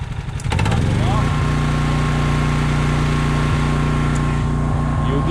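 A Honda EB6500X generator's engine starts and settles into a loud, steady running drone to warm up, close and continuous with faint ticks over the hum.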